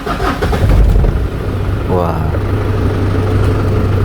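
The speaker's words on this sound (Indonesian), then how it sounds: "gemertaknya mesin diesel langsung kedengeran ya" A 2008 Ford Ranger 2.5L diesel engine cranks briefly and fires up, then settles into a steady low rumbling idle with diesel clatter, close by, as someone speaks over it.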